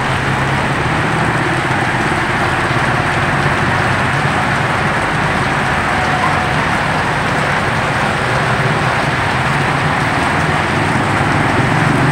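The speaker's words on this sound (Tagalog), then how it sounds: "napakalakas ng ulan dito sa bulan ngayon" Heavy, steady rain pours down in Bulan, Sorsogon, Philippines, during two days of flooding rain, a loud continuous broadband roar with no break for the whole stretch.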